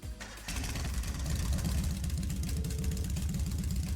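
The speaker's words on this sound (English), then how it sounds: "Alright, I'm gonna start up the engine now." Motorbike engine in Trails of Cold Steel, a sharp start followed by a loud, steady chugging idle with a rhythmic low pulse, close and unbroken to the end.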